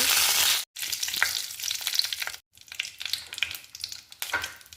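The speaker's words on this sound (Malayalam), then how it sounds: "അര സ്പൂൺ കടുക് ഇടുക കറിവേപ്പില" Mustard seeds and curry leaves crackle and sizzle in hot oil, a loud, dense spluttering that stops briefly twice before resuming, with no talk.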